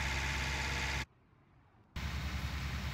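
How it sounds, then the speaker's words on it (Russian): A mower runs and cuts in Farming Simulator 19, a steady broadband engine drone and whir that drops out abruptly for about a second, then resumes just as loud. "Так, косилка бегает, косит."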